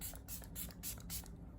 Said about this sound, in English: I'm going to spray using the Dalba First Spray Serum